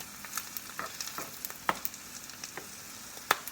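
Eggs frying in a pan and cooked to stay runny give off a steady close sizzle, broken by scattered sharp pops and crackles, with no voices.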